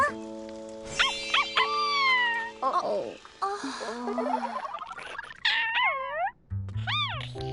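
A cat meows repeatedly, close by, in rising and falling cries, with a brief human exclamation between them, in an animated children's show.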